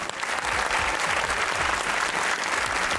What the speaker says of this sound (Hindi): अपने लिए तालियां बजाइए खवातीन हजरात